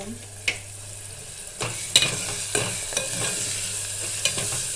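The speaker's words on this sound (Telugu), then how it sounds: "టమోటా ఆనియన్ అనేది మగ్గిపోతున్నాయండి ఇప్పుడు మనం వంకాయ యాడ్ చేసుకున్నాము" Tomato and onion fry in a pan for brinjal curry, a continuous sizzle broken by several sharp scraping stirs of a spatula, close and moderately loud, with a low hum beneath and no talk.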